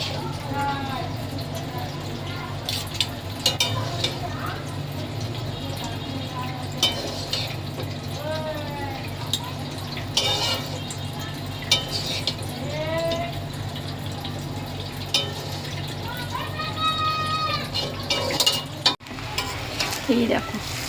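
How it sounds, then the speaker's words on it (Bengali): Egg and vegetable chow mein tossed in a pan with two spatulas, giving a steady scraping and sizzling bed with occasional sharper knocks, while a person talks over it throughout. "এবার ভালো করে দুটো খুন্তি নিয়েছি, নাড়বো।"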